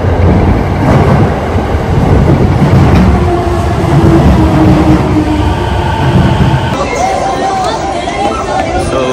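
Loud, constant rumble of a Tokyo metro train in motion, with muffled chatter from passengers underneath and a brief high squeal near the end.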